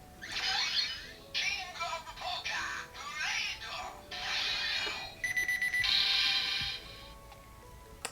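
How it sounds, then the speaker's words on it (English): Electronic Kamen Rider Ex-Aid Gashat toy sounds: a series of short mechanical chirps and clicks, then a bright, steady high-pitched beeping near the end, close up. "I didn't know it made the beeping sound."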